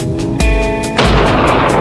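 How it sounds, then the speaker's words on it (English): A single sharp gunshot fired at a wild boar in a forest, a close loud crack with a booming tail, followed by a second burst of noise a moment later. "A powerful shot shattered the silence."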